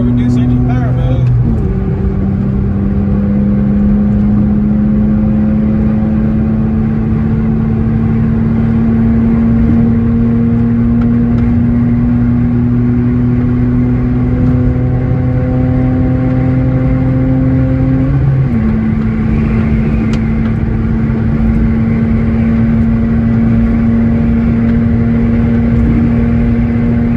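A BMW E90 fitted with a blow-off valve and charge pipe pulls hard at wide-open throttle. The engine drone climbs steadily and loudly through two long gears, with a quick shift near the start and another late.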